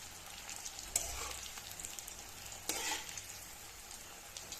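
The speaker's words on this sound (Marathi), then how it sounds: "डीप फ्राय करून घ्यायचं" Kothimbir vadi pieces deep fry in oil with a soft, steady bubbling sizzle, quiet and close, marked by a couple of sharper clinks of a utensil against the pan, no talking.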